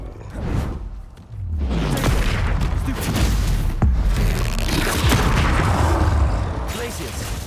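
A Bombarda spell detonates in Hogwarts Legacy, a deep booming blast with a whooshing rush, followed by sustained rumbling combat noise and further impacts, loud and close.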